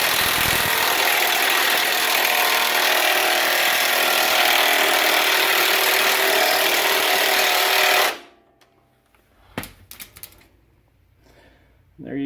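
A small cordless impact wrench works on a strut nut on a 2006 Ford Explorer, a loud steady hammering whir lasting about eight seconds, then stopping abruptly and giving way to a few faint clanks and quiet shop noise.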